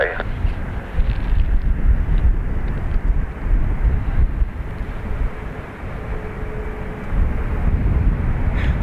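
An airplane takes off from runway 28 right at Dublin Airport, a steady broadband engine roar that holds loud and even from start to finish, with wind buffeting the microphone.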